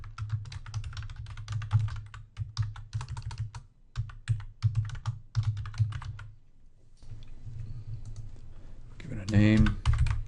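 Rapid clicking keystrokes on a computer keyboard in irregular bursts while entering notes, close and steady for several seconds, then a pause before a voice speaks near the end.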